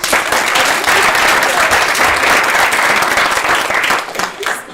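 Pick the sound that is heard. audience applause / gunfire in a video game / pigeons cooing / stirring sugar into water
audience applause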